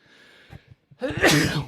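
A single human sneeze, preceded by a short breathy intake and small throat sounds, then bursting out loud and close for about half a second.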